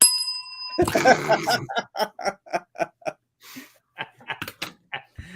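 A bell dings brightly once, near and clear at the start. Bursts of laughter and animated voices follow in quick rhythmic pulses.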